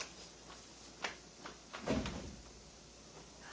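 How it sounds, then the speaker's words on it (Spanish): A cupboard door is opened and comes loose, giving a few scattered wooden knocks and clatters followed by a louder rattling bump, fairly close and without speech. "ya chingué la puerta y se zafó"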